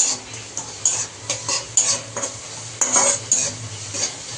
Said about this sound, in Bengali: এই যে এখন ম্যাগিটার মধ্যে মশলাটা ভাজা হচ্ছে ম্যাগিটাকে